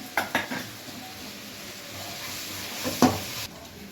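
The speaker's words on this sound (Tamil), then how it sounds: "இது கூடவே ஒரு ஸ்பூன் இஞ்சி பூண்டு பேஸ்ட்டு சேர்த்து நல்லா வதக்கிக்கோங்க." Ginger garlic paste and capsicum are sautéed in a sizzling pan. A utensil scrapes and stirs in a few quick strokes, with one louder scrape near the end over the continuous frying hiss.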